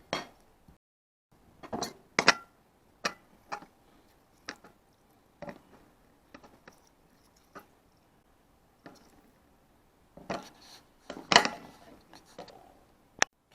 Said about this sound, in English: We'll just add in our marinade mix and whisk it away.